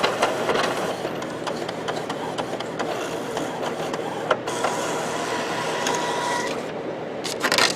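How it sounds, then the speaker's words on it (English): An Epson printer fitted with a continuous ink supply system runs a nozzle check print, a steady mechanical whir with repeated clicks and ratcheting ticks from the moving printhead, close by, with a brief pause and louder clatter near the end. "CIS, start, and then it's going to print out a nozzle check."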